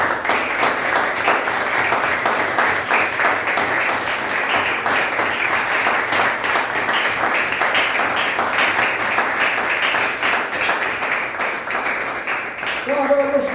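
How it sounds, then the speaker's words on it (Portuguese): A church congregation applauds steadily for over ten seconds, a dense wash of clapping at an even, fairly loud level, with a few voices mixed in near the end. "Vou dar uma salva de palmas, Senhor."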